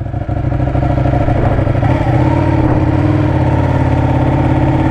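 A Ducati motorcycle engine runs loud and close, a deep steady rumble with slight swells in pitch as the throttle is blipped.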